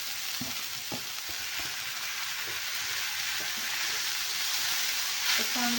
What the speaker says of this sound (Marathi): आता ही टाकून घ्यायचं आहे आपल्याला कुरडयाचा भिजलेला बोगा